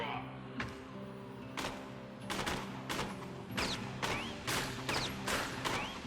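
Sharp bursts of gunfire from Borderlands guns, including the Hammer Buster, come as a run of separate loud cracks spaced about a second apart, each with a short metallic ring, over steady game background hum.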